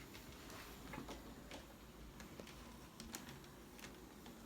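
A model train hums and clicks steadily along its track, quiet and close, with faint rhythmic clacks over a continuous whir.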